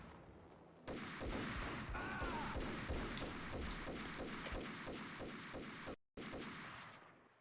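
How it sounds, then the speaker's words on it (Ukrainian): Sustained heavy gunfire with rapid bursts and explosive grenade thuds in the video game Max Payne, loud and continuous, briefly cutting out near the end before resuming. "Вони як не стріляють, так гранатами мене закидують"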